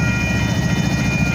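A heavy freight train with locomotives pushing and pulling rolls past between Sampson and York Street in Houston, giving a steady, dense low rumble with constant mechanical hum and a faint high tone throughout.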